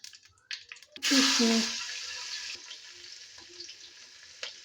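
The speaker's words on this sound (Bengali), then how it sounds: "তেলটা গরম হয়ে এসছে এর মধ্যে আমি কালো জিরে দিয়ে দিলাম" Black cumin seeds drop into hot oil in a pan and burst into a loud, close sizzle that fades to a soft, steady crackle.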